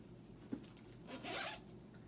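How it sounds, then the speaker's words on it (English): A zipper on a Rebecca Minkoff bag with an extended zip pulls open in one quiet, close rasping stroke, preceded by a faint rub and a small click, with no talking. "She has this great extended zipper"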